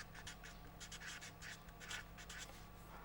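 A pen or marker moves across a board as someone writes a maths term in a lecture, producing steady rhythmic squeaky strokes over a low hum, with no talking.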